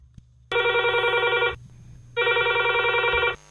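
A telephone rings for a radio phone-in show, in two loud electronic bursts separated by a short pause.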